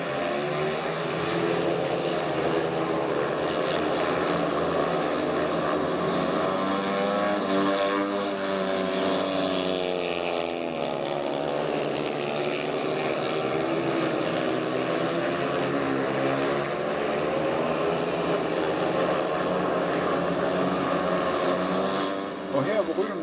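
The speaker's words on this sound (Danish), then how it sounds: "her hvor rytterne er kudt til sidste omgang, er det fortsat Nikolaj Toft, der ligger i front" Several 500cc speedway motorcycles race around the track at Granly Speedway Arena during a 2nd division meet, a continuous loud, droning engine roar with shifting pitch that holds steady throughout without a break.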